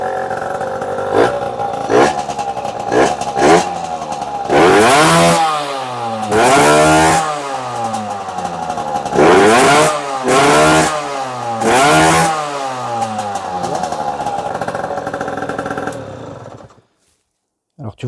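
A 2008 MBK X-Limit enduro motorcycle engine runs after its spark plug was cleaned, close and loud, idling with repeated throttle blips that rise and fall in pitch several times before it cuts out.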